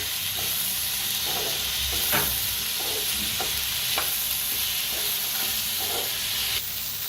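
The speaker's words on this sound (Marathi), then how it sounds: "मिरच्या आणि काजू सगळं भाजून घेऊया चांगलं असं" Green chillies and cashews roast in a hot pan with a constant close sizzle, while a spoon scrapes and stirs them in short, repeated strokes.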